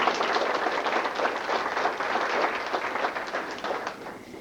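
An audience applauds FFA students, with a steady crowd clapping at a moderate distance throughout the whole few seconds.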